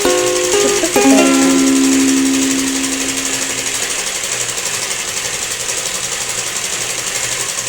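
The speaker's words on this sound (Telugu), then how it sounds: "ఆ 2 లేయర్స్ ఇలా కలిపి కుట్టేయాలి" Sewing machine stitching two stacked fabric layers together for a house mat, with a loud steady mechanical hum and rapid needle rattle that runs continuously after a brief start.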